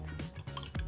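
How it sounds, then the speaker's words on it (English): Fragrance stirred into melted wax in a pot, a utensil clinking and scraping against the container in a few quick, faint, close taps. "I'm just going to dump this in here and give it a quick stir"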